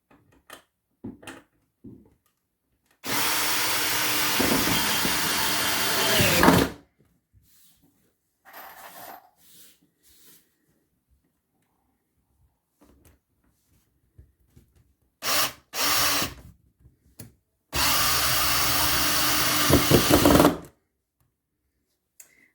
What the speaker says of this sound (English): I'm just about to screw.